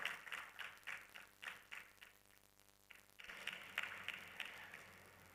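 Scattered audience clapping at a conference session, a series of sharp individual claps in an irregular rhythm, thinning briefly before swelling into denser applause near the end, at moderate distance with no talking.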